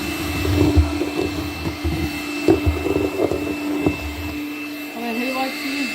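Makita 18-volt cordless vacuum fitted with a crack cleaner attachment runs with a steady whirring drone, close by, with a person talking over it and brief bumps of handling.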